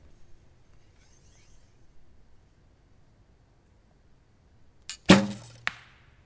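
Single shot from a Win&Win NS-XP foam-limb recurve bow after a string twist adjustment: a sharp, loud twang and thump up close, with a faint lead-in click and a short ringing tail, in an otherwise quiet room.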